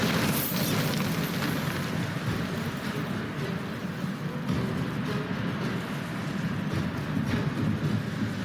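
A Bombarda spell explosion in Hogwarts Legacy gives a dense, roaring rumble with crackling debris that fills the whole stretch at steady loudness.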